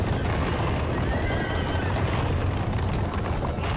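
A horse whinnies amid clip-clopping hooves in the video game God of War, loud and dense over a thick, rumbling game soundscape, with no clear talk.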